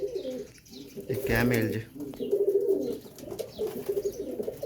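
Teddy pigeons coo in low, rolling bursts at close range, heard under and between a man's speech, with a brief louder rustle partway through.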